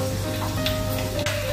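Seven or eight lengthwise-cut garlic cloves dropped into hot oil for a tempering, giving a loud, close, continuous sizzle with a few sharper crackles.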